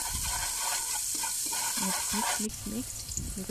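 Onion sautéing in hot cooking oil in a pan, a constant sizzle under a voice talking, with a few soft stirring scrapes toward the end.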